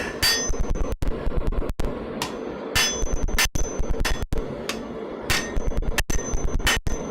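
Repeated sharp hammer blows from the edge of a hammer ring on hot metal in a smithy in a steady working rhythm, each strike loud and close, with brief pauses between bursts.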